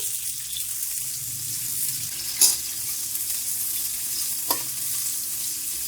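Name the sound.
tomatoes frying in hot ghee in a karahi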